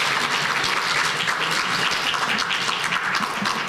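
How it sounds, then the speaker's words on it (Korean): An audience at a university inauguration service applauds steadily, a dense wash of many hands clapping together without pause. "다시 한번 감사와 격려의 박수 부탁드리겠습니다"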